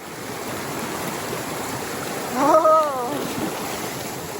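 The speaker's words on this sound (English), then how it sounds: "now we are down here walking in the river, which is very refreshing" Whitewater Creek flows steadily around someone wading along it, a constant close rush of water with a brief exclamation from a person midway.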